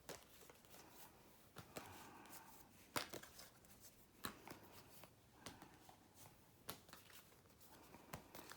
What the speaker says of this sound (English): Now, shuffle the cards.